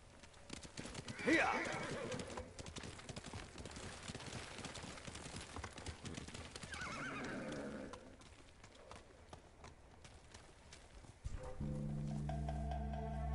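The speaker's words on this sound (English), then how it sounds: "You're a good horse, Kage." Horse in the video game Ghost of Tsushima gallops with steady clip-clopping hooves and whinnies loudly near the start, over game ambience and music, with speech heard across much of the stretch.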